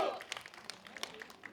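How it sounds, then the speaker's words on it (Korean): Faint, scattered applause from a small audience at a community talk-show event about neighborhoods, with a brief voice at the start and thin, uneven claps over about a second and a half. "박수 한번 보내주시죠."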